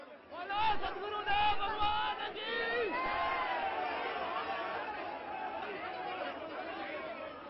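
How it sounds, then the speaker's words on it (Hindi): Asaram supporters shout slogans in a crowd at a railway station, several loud bursts of group chanting early on, then sustained noisy chatter and calls from many voices. "आसाराम समर्थक रह रहकर नारेबाजी भी करते रहे।"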